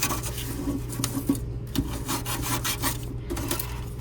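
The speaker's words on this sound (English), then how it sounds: "I'm going to scuff up the back so that glue has something to grab onto." Back of a resin piece being scuffed up by hand, giving a steady close rasping, rubbing scratch with repeated strokes over a constant low hum, no talking.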